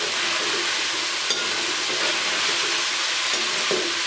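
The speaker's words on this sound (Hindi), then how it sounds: "अब मैं इन सारी चीज़ों को फ्राई करूँगी" Sliced green chillies and onions frying in hot oil in a pan for chicken biryani, a steady close hiss and crackle with a few soft stirring clicks, no voices.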